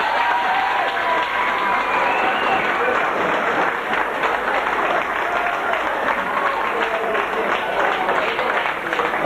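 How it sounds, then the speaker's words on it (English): A crowd at a Gaelic football club celebration after a 1999 junior championship final claps in a thick, continuous roar of applause, loud and unbroken, with voices mixed underneath. "Give them a big round of applause, please."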